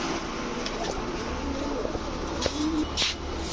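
A pair of brown-throated fancy pigeons, a male and a female, give low soft coos over a steady background hum, with faint chirps, fairly quiet and without speech.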